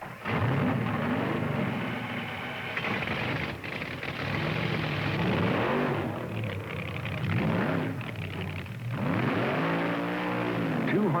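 Drag racing cars at the 1971 NHRA Supernationals fire their engines, loud rumbling and revving surging and falling in waves, with voices mixed in underneath.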